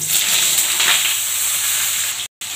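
Vegetables for a vegetarian leafy tarkari hit hot oil already seasoned with green chilli, nigella and mustard seeds, giving a loud, close, continuous sizzle that cuts out for a split second near the end.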